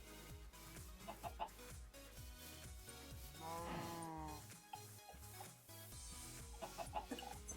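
A Minecraft chicken clucks in short repeated bursts alongside cow moos and game sounds, with a longer warbling call in the middle, all faint and close.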